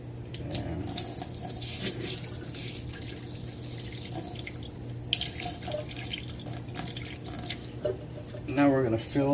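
Tap water runs steadily into a bowl as rice is given a final rinse, with sloshing and splashing at close range. A voice can be heard talking over the water at times.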